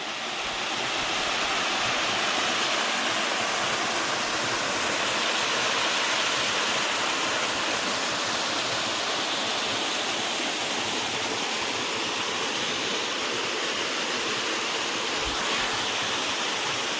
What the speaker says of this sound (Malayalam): ആ വെള്ളം ഒഴുകി വീഴുന്ന നോക്കിയേ